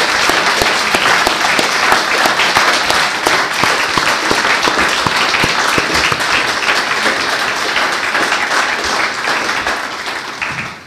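A big round of applause from an audience at a Celebrities for Indy event, dense and loud clapping that holds steady for about ten seconds before easing off slightly at the close.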